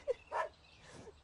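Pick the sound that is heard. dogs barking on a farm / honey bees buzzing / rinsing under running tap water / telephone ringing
dogs barking on a farm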